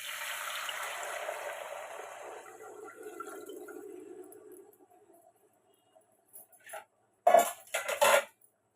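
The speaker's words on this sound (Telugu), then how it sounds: "ఇప్పుడు దీంట్లో మనం కొలిచి పెట్టుకుని వాటర్ పోసుకుందామండి." Measured water poured into a hot pan of lightly fried ginger pieces while making rice rava upma: a steady rushing hiss runs for about five seconds and fades, followed by a few sharp metallic clinks near the end.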